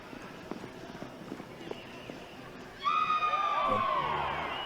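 Hooves thud softly at a reining horse show in an arena, a few light footfalls, then a sudden louder, sustained ringing sound takes over and carries to the end.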